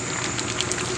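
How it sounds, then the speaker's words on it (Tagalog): Rice porridge (lugaw) boiling in a pot makes a continuous bubbling, gurgling hiss, close and steady, with no talk. "Kumukulo na yung lugaw."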